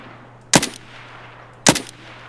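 Two sharp, loud gunshot bursts in Escape From Tarkov, about a second apart, each a short rattling crack over a quiet background with a low steady hum.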